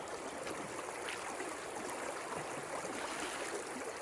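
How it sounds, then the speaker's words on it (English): Creek water rushes and trickles steadily as a gold pan is immersed while fossicking for gold and sapphire at Black Springs, NSW, a soft, continuous flow with faint gurgles and no voices. "So I'm going to immerse the whole lot in the creek,"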